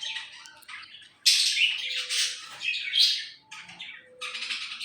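Pet birds kept indoors chirp and squawk almost continuously, with several shrill overlapping calls close by and loud, with no talking.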